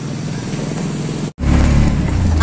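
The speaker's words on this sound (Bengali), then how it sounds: "আমরা দুজন এখন অটো করে যাচ্ছি স্টেশন।" An auto rickshaw carrying two passengers to the station gives off a steady, close engine drone. The sound cuts out for a moment, then returns slightly louder.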